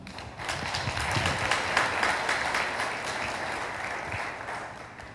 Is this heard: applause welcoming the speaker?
yes